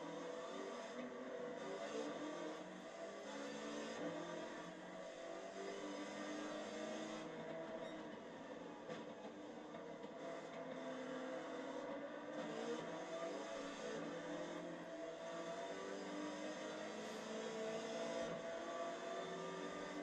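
A Land Cruiser race car built for Pikes Peak in Gran Turismo 7 drones with a steady, loud engine whine and revving that holds for about twenty seconds, with no talk over it.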